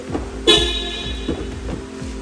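A 2021 Tata Punch Creative responds to the request-sensor unlock with a short horn-like chirp, loud and close, over a low idle-like drone with a few soft thumps.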